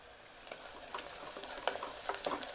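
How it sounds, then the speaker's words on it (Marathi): Onions sautéing with a little salt in a pan for pav bhaji, a soft, fairly quiet sizzle with light spatula scrapes and stirs, close by and without talking. "कांदा परतत असताना कांद्यामध्ये थोडंसं मीठ टाकायचं"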